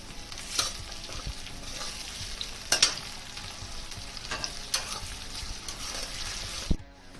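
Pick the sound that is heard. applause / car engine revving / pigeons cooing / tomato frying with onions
tomato frying with onions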